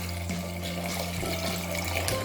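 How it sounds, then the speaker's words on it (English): Water running from a tap into a pan of potatoes, a steady, close rushing and splashing fill that continues unbroken throughout. "Fill your pan with water to cover all the potatoes."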